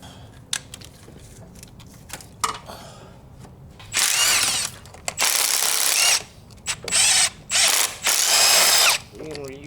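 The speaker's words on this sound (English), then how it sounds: "So we gotta unbolt this whole housing." Ratchet wrench unbolting a housing on a Nissan 180SX during a coolant hose repair in a driveway, starting with scattered clicks and taps, then loud sustained bursts of rapid ratcheting from about four seconds on, close to the mic.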